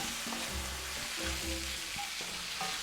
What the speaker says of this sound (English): And I'm just going to stir these in. And the nice thing about this cast iron,